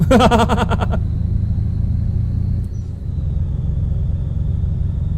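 Truck engine in Euro Truck Simulator 2 during a multiplayer France delivery event, a steady loud low rumble as it pulls through the gears, with brief voices at the start.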